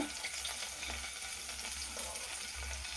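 Half a tablespoon of cumin seeds crackling in half a tablespoon of hot oil in a pan, a soft, continuous sizzle with faint crisp pops heard alone at low volume.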